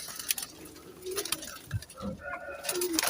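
A group of healthy pet pigeons gives soft, faint coos in a few brief bursts, with light clinks and shuffling around them and no voices.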